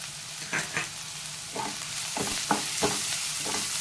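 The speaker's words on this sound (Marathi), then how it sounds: "कांदा चांगला परतून घेऊया। लगेच आपल्याला बारीक चिरलेल्या 4 हिरव्या मिरच्या घालायच्या आहेत।" Chopped onion and green chillies sautéing in hot oil with cumin for a methi batata bhaji, a steady close sizzle broken by several bursts of stirring and scraping in the pan, with no talking.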